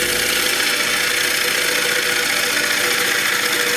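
A woodturning tool makes light skimming cuts across a crotch wood platter spinning on a lathe, its bevel riding the surface. A loud, steady whirring drone continues unbroken, with no voices.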